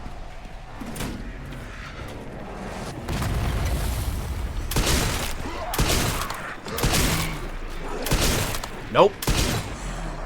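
Gunfire in the survival-horror game Resident Evil 9, a rifle running low on ammo, with broadband bursts of shots and booms in several separate volleys amid game ambience, loud and close, while someone speaks briefly.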